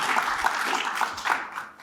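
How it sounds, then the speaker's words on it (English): Audience applause follows introductory remarks at a policy panel conference, a steady wash of many hands clapping at moderate distance, fading slightly toward the end. "if we could give a round of applause for all of our speakers and their introductory remarks"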